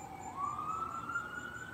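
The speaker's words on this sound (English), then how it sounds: "I hear the sirens going." An emergency vehicle siren rises in a single steady sweep, faint and distant over quiet background noise.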